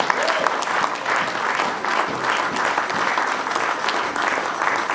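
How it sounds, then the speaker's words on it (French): Audience applause at a church gathering, sustained dense clapping from a crowd, steady and fairly loud with a faint murmur of voices underneath. "Je pensais que tu allais applaudir ça."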